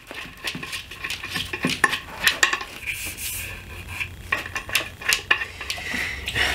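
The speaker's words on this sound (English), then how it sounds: "We're going to give this a good mix." Stirring wood stain for a DIY kitchen table: irregular scraping and tapping of a stick or tool against a can, close and fairly faint, with no voices.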